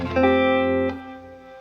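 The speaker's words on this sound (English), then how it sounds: "So my reverb gets the harmonic trem," A single sustained electric guitar chord pulses with a smooth stereo harmonic tremolo through a Line 6 HX Effects reverb, then is cut off and leaves a short reverb tail.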